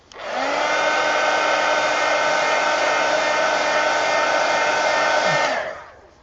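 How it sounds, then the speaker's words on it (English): A heat gun blasts over a freshly worked portrait drawing, a loud steady whooshing roar with a whining tone that starts abruptly, holds for about five seconds and cuts off, with no voices. "let me hit that with the heat gun real quick, guys, just so to make sure that's dry"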